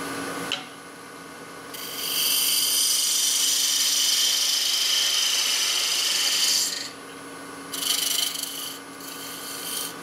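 A hand thread chaser scrapes along a male wood thread, giving a steady dry rasping that runs for about five seconds, stops, then returns in a shorter burst near the end against quiet room noise.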